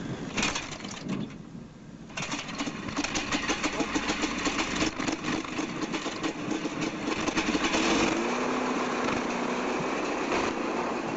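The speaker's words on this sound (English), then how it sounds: "the engine comes to life again" A nearby aircraft engine sputters into life and settles into a steady, rumbling idle that runs throughout, with faint birdsong in the background.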